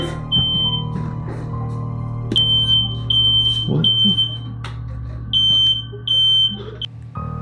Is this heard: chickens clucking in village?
no